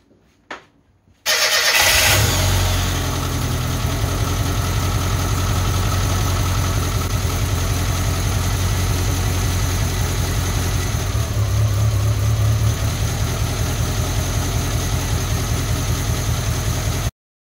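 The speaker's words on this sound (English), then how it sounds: "Let's start the car up, get it warmed up, get it going." After a brief silence and a click, a car engine fitted with Powerspark electronic ignition cranks and fires up loudly, then settles into a steady, close idle that continues throughout.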